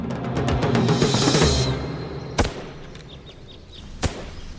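A historical matchlock-style firearm with a lit match cord is aimed and fired, the rumbling discharge followed by two sharp, loud cracks a moment apart, with no voices.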